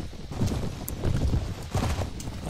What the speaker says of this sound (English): not sure why that horse decided it had to make such a loud noise